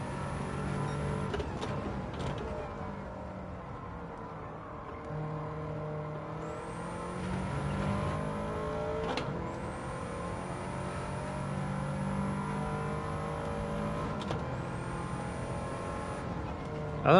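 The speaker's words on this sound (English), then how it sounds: "I always think the Subarus sound really good." A Subaru car engine in a racing video game revs steadily and climbs through gears with whining tones and brief shift dips, continuous and fairly loud with no talk.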